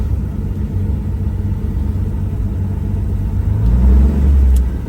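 An old car engine, run for the first time in over twenty years and with a faulty accelerator pump, rumbles at a low idle, then swells briefly louder near the end as the throttle pedal is pressed.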